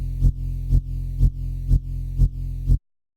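Heavy O.G bass synth preset in Xfer Serum: a dense, sustained low tone that stays loud for about three seconds. It pulses in a steady rhythm of about two swells per second, with no one talking, then cuts off abruptly.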